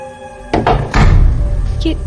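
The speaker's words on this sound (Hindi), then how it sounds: "ये दरवाजा कैसे बंद हो गया? वो भी अपने आप?" A door closing shut by itself with a solid thunk and a heavier slam close by, followed by a faint knock, with a voice speaking around it.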